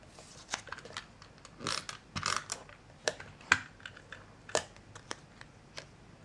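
A Stampin' Up snail tape runner applies adhesive to the back of paper circles for a card, giving a series of short scratchy clicks and rasps at close range, spaced irregularly, with no talking.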